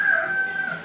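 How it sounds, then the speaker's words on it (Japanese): A restaurant call bell is pressed and plays a loud, close rooster crow, one sustained cock-a-doodle-doo lasting under a second with nothing else heard. "ベルを押す。"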